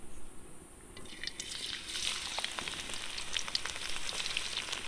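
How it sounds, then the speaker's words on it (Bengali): Chopped garlic frying in hot oil in a village-style kitchen, a steady close sizzle with scattered crackles and pops growing busier after the first second, heard alone without voices. "তেল দিয়ে দেবো দিয়ে দেবো রসুন কুচি"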